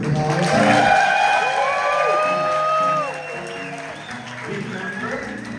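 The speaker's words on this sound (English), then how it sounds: "Give this name a good applause." Audience at a live cabaret show by Joey Arias at The Triple Door in Seattle applauds, with clapping and some cheering, while tonal sweeping sounds run over it and the clapping fades after a few seconds.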